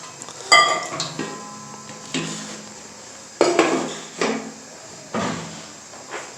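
Ghee going into a cooking pot on a lit stove: a series of clanks and scrapes of metal utensils against the pot, several distinct knocks spaced a second or so apart, close and fairly loud.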